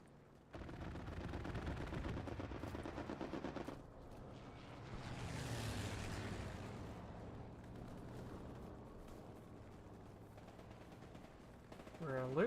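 Sustained gunfire in a video game, bursts of shots layered into a dense, continuous battle din with low rumbles, fairly loud throughout and rising sharply at the very end.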